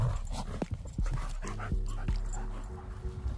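Staffie and German Shepherd puppies pant and whimper close by, with soft yips and a few sharp knocks over a steady background hum.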